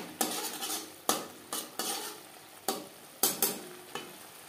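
Pakal (bam) fish curry in a spicy oil-chili gravy stirred in a pan over a high gas flame: about seven distinct scraping spatula strokes at uneven intervals, close and fairly loud, over a soft sizzle.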